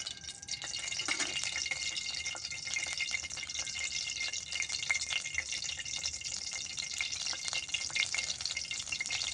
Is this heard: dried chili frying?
yes